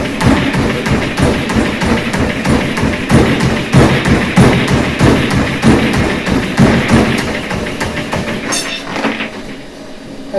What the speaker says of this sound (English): the volume of the running is getting louder, but it's significantly less with a midfoot or flat foot strike versus with the heel